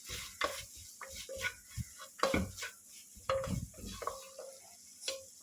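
Egg being stirred and tossed through Schezwan egg noodles in a pan with bottled Schezwan sauce: repeated scraping clinks of a utensil against the pan over a soft background sizzle, close and alone with no talk.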